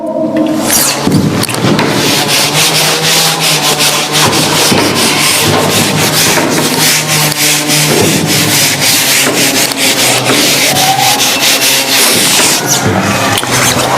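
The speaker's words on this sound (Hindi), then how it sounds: "यहां तक अब हम रब करें बोर्ड को" A classroom board is rubbed clean in loud, continuous back-and-forth scrubbing strokes, close and steady with no pause throughout.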